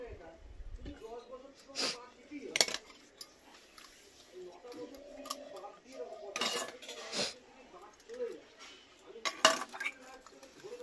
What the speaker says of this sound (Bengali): তাই জন্য ঠাকুরের বাসন ধুচ্ছে